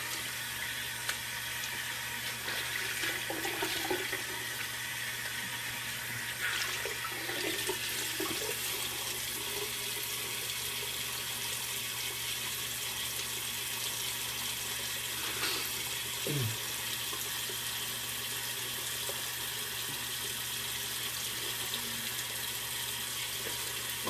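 Running tap water rinsing off soap, a steady soft hiss of flowing water with faint splashes and handling noises throughout, moderately quiet and close, no talking.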